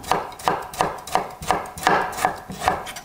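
A knife chops green onion on a cutting board in a steady rhythm, about nine crisp close taps roughly a third of a second apart, with no talking.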